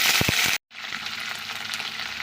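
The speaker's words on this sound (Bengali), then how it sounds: "তেল গরম হয়ে গেছে এখন ভেন্ডিগুলোকে দিয়ে" Okra dropped into hot mustard oil in a kadai, with a sharp hiss cut off by a brief silence and then a steady, close sizzle of frying that carries on evenly to the end.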